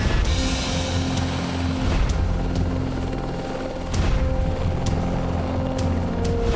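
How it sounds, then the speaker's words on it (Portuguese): Police helicopter flying over a remote area in the Pernambuco backcountry during a marijuana-field raid, steady loud rotor thump and turbine drone running throughout. "só é possível chegar de helicóptero"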